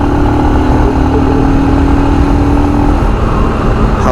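Royal Enfield Scram 411 motorcycle pushed hard at speed in high gear, a loud continuous engine drone mixed with heavy wind rush, steady throughout with a slight shift in pitch near the end.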